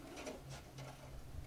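A sewing machine stitches an ease-stitch seam in fabric, a faint, steady mechanical whir with soft rhythmic needle pulses, close and alone.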